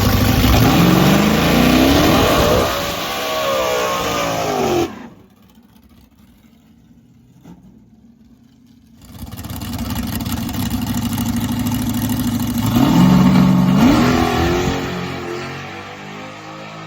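A race car engine in burnout mode revs hard and accelerates, loud and close, then drops to a quieter idle for a few seconds before roaring and climbing in pitch again.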